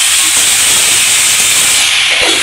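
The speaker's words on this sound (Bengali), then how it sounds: "লবণ তেলের উপরে বাগার দিয়ে দিল" Salt hitting hot oil for a tempering in a Bangladeshi dish of drumstick leaves and banana stem gives a loud, steady steam-like sizzle and hiss, close up, lasting throughout without a break and with no talk over it.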